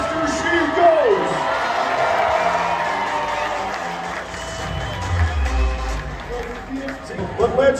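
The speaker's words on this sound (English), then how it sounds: "Armstrong, the louder you cheer, the faster she goes." Rodeo crowd at the Armstrong fair cheering during a barrel run, broad roar and whoops rising and falling, with a horse run and announcer-style voices mixed in.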